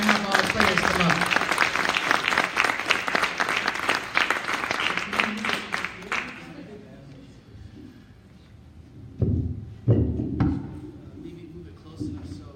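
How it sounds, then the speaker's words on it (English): A symposium audience at a clay art center applauds to welcome the panel, with loud dense clapping that fades after about six seconds, followed by scattered thumps and shuffling as people settle. "let's get a round of applause, everybody"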